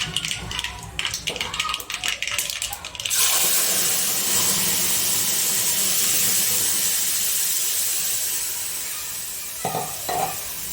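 Onion-tomato gravy hits hot oil already tempered with mustard seeds, cumin and asafoetida, bursting into a loud, steady sizzle and hiss that slowly fades, with a few stirring clinks toward the end after a brief stretch of quieter kitchen sounds.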